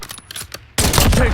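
Bursts of gunfire in Call of Duty Warzone on the Verdansk map, a few sparse shots at first, then a loud, dense fusillade of rapid fire.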